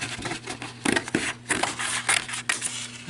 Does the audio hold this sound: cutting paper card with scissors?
yes